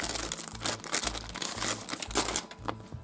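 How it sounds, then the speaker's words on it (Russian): A plastic surprise toy packet is crinkled and torn open up close, a loud, continuous crackling with rhythmic bursts as the wrapper is handled. "Надо открыть какой-нибудь пакетик попухлее."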